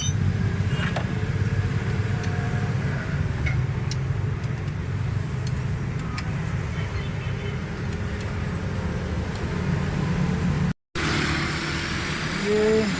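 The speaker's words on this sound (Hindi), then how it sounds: "अभी प्लग चेंज करके गाड़ी स्टार्ट करते हैं।" A car's engine starts and settles into a steady idle after a spark plug change, a continuous low rumble with a brief dropout near the end.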